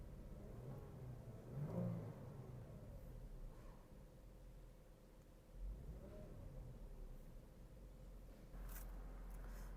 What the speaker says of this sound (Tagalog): So mag-rev tayo ng 2000 RPM para uminit itong ating makina.